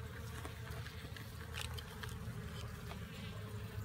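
Honeybees buzz steadily around a hive during winter feeding, a continuous near drone with small flickers as bees fly in and out.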